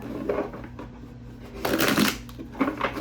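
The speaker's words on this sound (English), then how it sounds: "Let's do one more shuffle" A tarot deck being shuffled by hand, with soft papery riffles and slaps rising in a louder burst near the middle and again at the end, over a low steady background hum.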